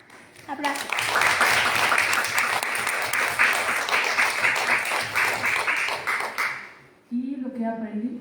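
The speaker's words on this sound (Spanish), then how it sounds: "Aplausos." Audience applause at a FENALEM 2023 talk, a dense, steady wash of clapping that swells in after a brief pause, holds loud for about six seconds, then fades, with a speaker's voice returning near the end.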